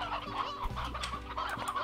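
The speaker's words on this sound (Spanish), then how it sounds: "las gallinas las vamos a poner mientras tanto" Chickens in the Slime Rancher video game cluck in a quick series of short calls, moderately loud and close, with no talk over them.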